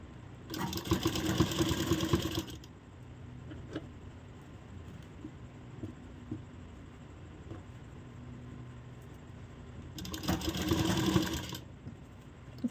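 Two bursts of a sewing machine stitching a blouse, each about two seconds of close, busy whirring, separated by a long quiet stretch with faint handling clicks.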